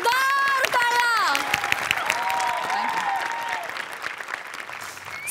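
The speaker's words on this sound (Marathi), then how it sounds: "या कडक परफॉर्मन्ससाठी जोरदार टाळ्या" Studio audience claps loudly and steadily after a comedy sketch performance on a Marathi TV comedy show, with music tones in the first seconds, the applause thinning gradually over about five seconds.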